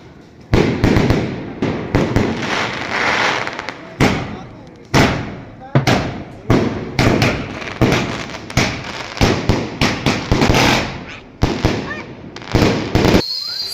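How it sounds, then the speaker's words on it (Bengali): Chinese New Year fireworks burst again and again in loud, irregular booms and crackles, some close together, with short gaps between volleys. "আজকের আতশবাজি এই পর্যন্ত দেখালাম"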